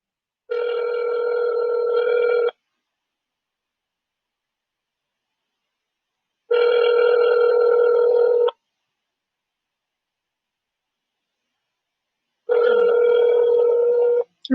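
A phone line ringing through before reaching voicemail: three long ringback tones, each about two seconds, spaced evenly with silent gaps, loud and alone.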